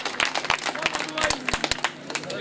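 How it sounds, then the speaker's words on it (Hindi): Mushaira audience giving an enthusiastic welcome to the committee, individual claps standing out sharply over a busy, crowded hall with voices mixed in underneath. "एक बार तमाम कमेटी के लिए जोरदार तालियों से इस्तकबाल कीजिए"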